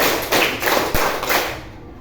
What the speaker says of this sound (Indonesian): coba tepuknya dipercepat